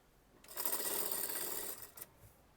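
Sewing machine running steadily for about a second and a half while stitching the sleeve seam of an Anarkali kurti, a loud continuous whirring that stops with a short clunk and no talking.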